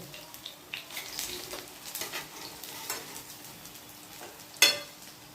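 A semolina and potato snack fries in a little oil with a steady soft sizzle, gentle stirring and one sharp crackle near the end, with no voices.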